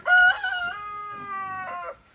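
A single rooster crows once, loud and fairly close, a long drawn-out cock-a-doodle-doo with nothing else around it.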